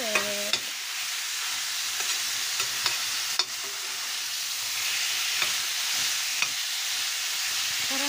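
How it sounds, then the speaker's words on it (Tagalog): Minced pork stir-frying in a pan for a stir fry with eggplant, a steady broadband sizzle running throughout with occasional sharp clicks of a utensil scraping and stirring, close and continuous, no voices. "now we put the going to put the mince pork"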